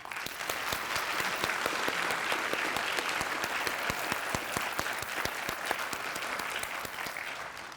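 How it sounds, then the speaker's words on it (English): Ceremony audience applauding Teachers of the Year, a sustained burst of many hands clapping with distinct individual claps standing out, moderately loud and tapering slightly at the end. "I would like for you all to recognize them with applause one more time."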